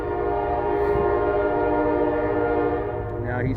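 A CSX freight grain train rolls steadily past, a loud continuous rumble with sustained horn-like tonal drone throughout, close and unbroken, with no talk.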